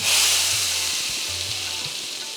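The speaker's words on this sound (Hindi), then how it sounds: "अब इन छौंकने में डाल देवा" Steady, loud sizzling of spices and dried red chillies frying in hot oil as a tempering for lauki kadhi, a bright hiss with a few soft clinks underneath, no talking.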